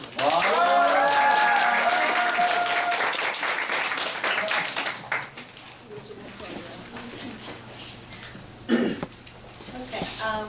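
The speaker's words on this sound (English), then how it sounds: "shall we welcome our speakers with a big round of applause?" An audience at a university lecture claps loudly and steadily for the arriving speakers, then the clapping fades into scattered murmurs, a cough and a throat clearing.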